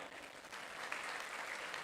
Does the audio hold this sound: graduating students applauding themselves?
yes